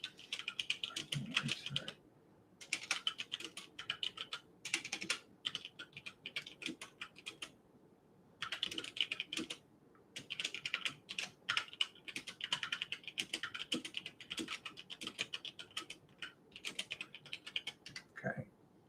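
Comment being typed on a computer keyboard, rapid close clicking keystrokes in bursts separated by short pauses, fairly quiet with no talk.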